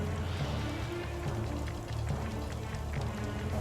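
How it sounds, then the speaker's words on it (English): Heavy rain pours steadily onto a surface, a dense continuous patter with scattered louder drops, no voices. "The rain did not fall gently."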